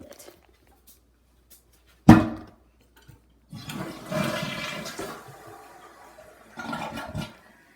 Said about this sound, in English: Now we are going to flush the fucking toilet.